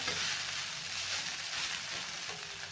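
Poha stir-fried in an iron pan gives a soft, steady sizzle, moderately quiet and continuous with no voices.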